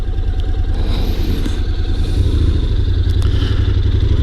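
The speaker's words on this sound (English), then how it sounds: "3-point turn on a motorcycle." A Honda NC750X DCT motorcycle idles and creeps through a three-point turn on a narrow road, its engine a steady low rumble close by with faint clatter and wind.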